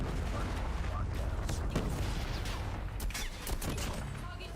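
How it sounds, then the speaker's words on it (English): A Predator missile strike in Call of Duty Mobile during a LATAM Stage 4 world championship finals match, heard as loud, dense, continuous battle noise with booming blasts and gunfire throughout. "Predator missile inbound."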